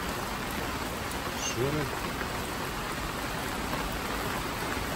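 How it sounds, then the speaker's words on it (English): Heavy rain drums steadily on a polytunnel, a dense continuous hiss throughout, with a brief voice speaking partway through. "Look at that bed there, that's how much rain it's just put out."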